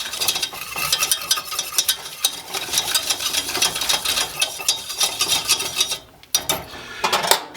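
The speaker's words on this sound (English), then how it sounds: "I'm going to add 2 tablespoons of flour, and I'm just going to whisk this together and let it cook for about a minute" Flour being whisked into hot oil in a pan for a roux: quick, rhythmic scraping strokes over a soft sizzle, close and steady, with a brief pause near the end.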